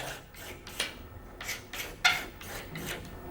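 Resin residue being sanded off the surface of a natural bamboo fishing rod, a series of soft, close rasping strokes, about eight in a few seconds, with a steady back-and-forth rhythm and no talk.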